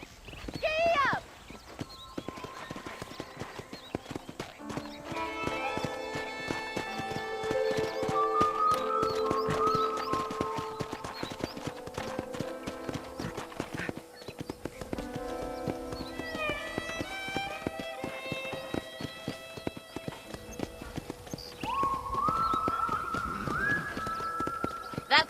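Horse hooves clip-clop steadily across the ground in Red Dead Redemption, a repeated rhythmic tapping under game music, a brief whinny and a voice talking.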